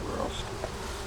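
A short burst of honey bees droning at a swarmed hive, a close, even buzz with a few brief higher tones rising over it.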